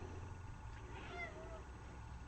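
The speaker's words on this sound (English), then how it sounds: "Actually, I have a cat. And right now she's trying to get attention." A pet cat meows for attention, a faint drawn-out call with a second softer note, heard through low room noise.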